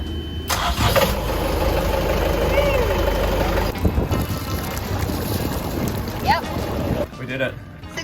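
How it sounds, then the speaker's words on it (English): A sailboat's inboard engine cranks and starts after an exhaust elbow and fuel line repair, then runs at a steady, loud mid-pitched idle close by, with voices talking over it. "Go time on the engine. Engine on."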